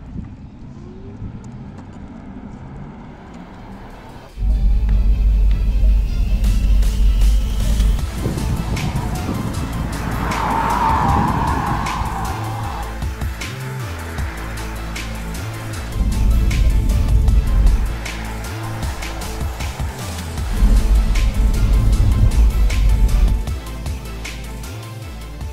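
A Porsche Mission E electric car runs laps on a test track, giving a loud, smooth whooshing drive that swells and fades in passes, with a faint high electric whine, wind buffeting and no engine note.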